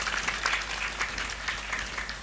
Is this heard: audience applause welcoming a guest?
yes